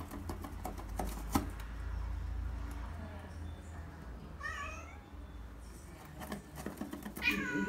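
A cat meows for a piece of meat, two or three short, clear meows near the microphone over scattered knocks and kitchen clatter, with people talking quietly.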